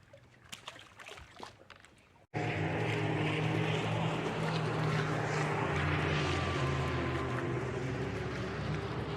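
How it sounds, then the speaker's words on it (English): A jet ski engine roars on the Cumberland River, starting abruptly after a quiet moment and holding a loud, steady, broadband drone close by for the rest of the stretch. "it's jet ski season"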